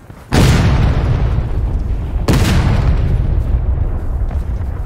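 Two heavy cannon blasts boom out at a Civil War reenactment, one at the start and another about two seconds later, each loud and close with a long rumbling decay.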